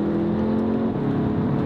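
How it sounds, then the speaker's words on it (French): A Golf GTI TCR accelerates near Payerne to overtake a small scooter, its engine giving a loud, steady, close-up drone with a rising whir throughout. "Là on va faire un petit dépassement furtif d'un petit scooter."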